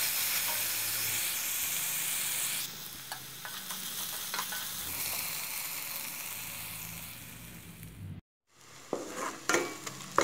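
Onions sauté with rock salt in a pan for a Tamil ghee fish curry, giving a steady sizzling hiss with occasional stirring scrapes, then a brief pause before the frying resumes.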